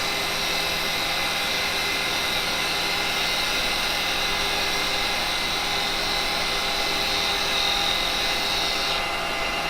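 Carbide chisel with bevel rubbing takes a finishing cut on wood spinning on a lathe, a steady, loud, continuous high whine and hiss with no pause, running on alone without any talk.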